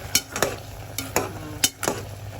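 Shrimp stirred in a pan with coconut milk, giving a handful of short scraping strokes at an irregular pace over a soft sizzle, close and fairly quiet with no voices.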